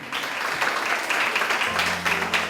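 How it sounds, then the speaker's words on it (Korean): Congregation applause in a church service, dense steady clapping from many hands filling the room, with a low sustained tone entering near the end. "하나님 이들을 향해서 박수 쳐주시기 바랍니다."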